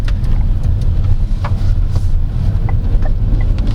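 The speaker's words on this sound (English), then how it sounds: "It just wants to keep on going. Of course, this is a turbocharged 4-cylinder engine." A turbocharged 4-cylinder engine in a 2023 Changan CS35 Plus Luxe subcompact crossover accelerating, heard from inside as a loud steady low rumble mixed with road noise.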